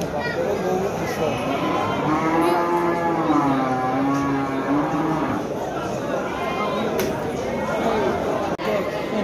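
Calves moo repeatedly in a long, rising and falling lowing call near the middle, mixed with people chattering around them in an outdoor livestock setting.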